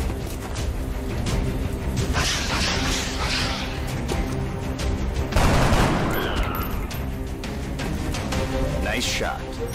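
Bursts of gunfire and crackling volleys ring out in a 2012 PC strategy game, steady mechanical battle noise underneath, with a mid-clip swell of heavier fire while radio-style voices give orders.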